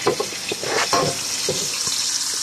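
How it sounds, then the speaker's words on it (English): Bacon frying in a pot on medium-high heat, a steady crackling sizzle with small pops and brief scraping or handling noises, close up and with no one talking. "I want to make sure that I cook my bacon fully"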